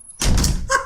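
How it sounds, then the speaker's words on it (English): A door slams shut with a single loud, close thud followed by a short rattling tail. "Shut that door!"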